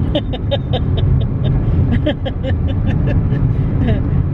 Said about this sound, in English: we are driving down the road